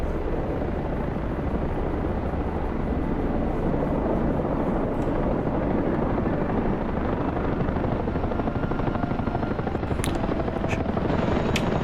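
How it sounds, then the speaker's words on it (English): A Chinook helicopter arrives in a video game: a loud, steady rotor roar and engine drone fill the scene without pause, with brief higher-pitched game effects near the end. "Chinook's coming in to capture it right now."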